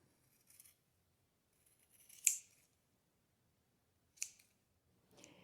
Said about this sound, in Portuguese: cortar com a tesoura